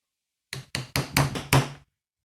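Six sharp hammer blows strike a nail punch, driving nail heads below the surface of a wooden mantelpiece; close, loud and evenly spaced, then silence.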